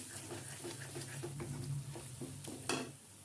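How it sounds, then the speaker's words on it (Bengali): Spice paste with chilli powder and a splash of water being stir-fried in a pan, soft repeated scraping strokes over a low simmering sizzle, ending with one sharper scrape. "দিয়ে আমি সব মশলাটাকে আরেকবার ভালো করে কষিয়ে নেব"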